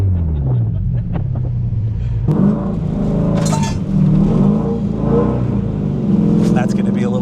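A naturally aspirated K24-swapped Toyota MR2 with a T-top revs and accelerates, its engine roar rising and swelling close by while people talk over it.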